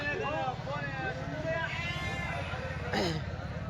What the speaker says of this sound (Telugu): గొర్రెలు పిల్లా గొర్రెలు అన్నీ ఉన్నట్టున్నాయి